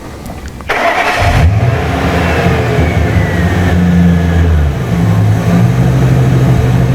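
A 2002 Ford Excursion 6.8L with a stalling problem cranks and catches at close range, then settles into a steady, loud running drone with a slight rise and dip in engine note.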